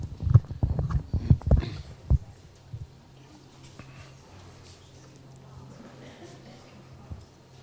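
A dressage horse in extended walk at a Grand Prix CDI event, its hooves clopping in a clear, close rhythm for the first couple of seconds before fading into quiet arena ambience.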